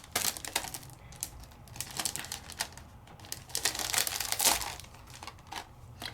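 A die cutting machine cutting paper tags, giving a run of crisp crunching, crinkling bursts at close range with no talk.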